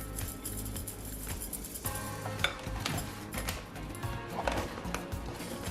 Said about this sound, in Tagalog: continue whisking it until it's well mixed